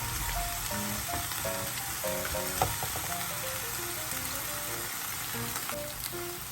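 Onion fries in olive oil in a pan with a loud, dense, crackling sizzle that runs without pause, alongside faint background melody and no talk.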